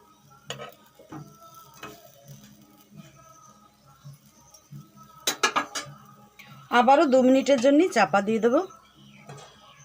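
Masala eggplant slices being flipped in a frying pan with little oil: scattered metallic clinks and scrapes of a utensil against the pan, followed by a denser burst of clattering, with a voice speaking nearby.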